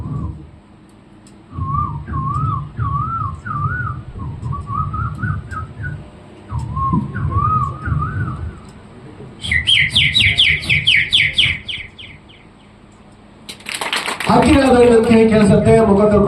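A human voice imitates birds chirping in a mango tree at dawn, with wavering whistled tweets and rapid trills in several bursts over a low background murmur, ending in a louder burst of sound that may be clapping.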